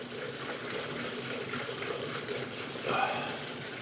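Liquid poured into a Cummins 4BT diesel engine fitted in a 1968 Ford Bronco, a steady faint trickle and splash heard close up, swelling briefly into a louder gush near the end.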